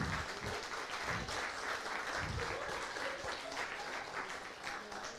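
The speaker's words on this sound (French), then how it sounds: "je vous prie d'applaudir donc Charline," A conference audience at a Strasbourg women's rights day event applauds steadily, a soft, distant wash of many hands clapping without a break, with faint voices mixed in.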